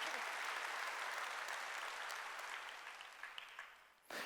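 A congregation claps together during a church sermon, a fairly soft but steady spatter of many hands that thins out toward the end, followed by a short sudden burst of sound.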